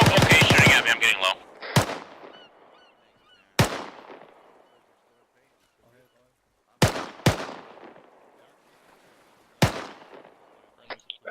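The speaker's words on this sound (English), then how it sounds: "Oh, okay, he's shooting at me." Gunfire in the video game ArmA 3: a rapid automatic burst opens, then single loud shots and quick pairs echo out across the quiet between them, with a voice briefly audible.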